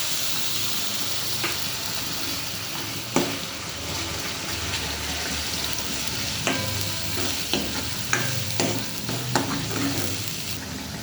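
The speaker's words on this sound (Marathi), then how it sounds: "मंद आचेवर वाटण चांगलं होऊ द्यायचं." Masala paste fries on a low flame for a chicken curry, with an even hissing sizzle throughout and occasional scraping knocks as it is stirred, close and steady, no talking.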